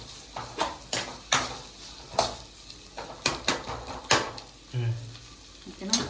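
Turmeric frying in hot oil for pudina chicken, with a steady sizzle broken by repeated sharp scrapes and clinks of a spoon stirring against the pan, fairly close.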